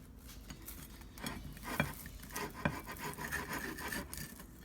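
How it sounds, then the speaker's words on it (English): A knife saws through a bacon grilled cheese sandwich, giving quiet rasping and scraping strokes with a few sharper clicks against the plate. "Sort of hard to cut through the bacon."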